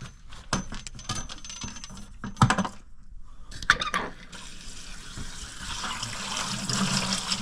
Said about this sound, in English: And we're going to fill it up with water.